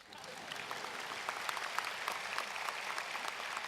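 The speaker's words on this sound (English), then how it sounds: "You can clap for them." An audience at the 2014 UIC College of Pharmacy commencement ceremony gives sustained applause, a steady wash of many hands clapping in a large hall at moderate distance.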